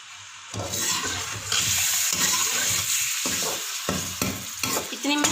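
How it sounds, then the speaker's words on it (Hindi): Chicken pieces hit hot ghee in a pan with browned onions for chicken palak gosht, bursting into loud close sizzling, broken by the scraping and clatter of stirring, with no voice heard. "अब हम घी में चिकन ऐड करते हैं।"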